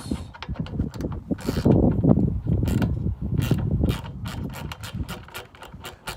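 Ratcheting mechanical clicks of a fastener being loosened counterclockwise on a Jeep, a steady run of close, rhythmic metallic ratchet and gear sounds with no talking.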